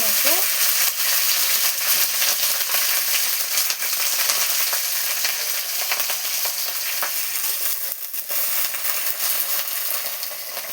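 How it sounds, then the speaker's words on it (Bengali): Onion greens fry in hot oil with chili in a pan, a loud continuous sizzle and crackle with occasional stirring scrapes throughout. "এবার এতে পেঁয়াজ গাছগুলো দিয়ে দেবো।"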